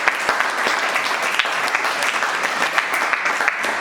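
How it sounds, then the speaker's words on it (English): Audience at a panel discussion at BirdFair 2019 breaks into applause, a dense, even patter of many hands clapping steadily for several seconds at moderate loudness, with no talk over it. "Let's have a round of applause for that."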